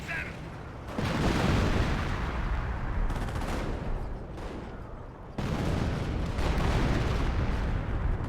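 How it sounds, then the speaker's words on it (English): Artillery creeping barrage in the real-time strategy game Company of Heroes: a dense, sustained rumble of shell impacts and gunfire, with a sharp surge near the start and another mid-clip, loud and continuous throughout. "that seemed like a creeping barrage to me"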